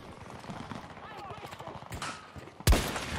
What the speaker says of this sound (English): I pick the sniper up and snipe this dude